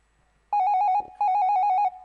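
An outgoing phone call rings back in two short electronic trills separated by a brief pause, clear and close with no talking over it.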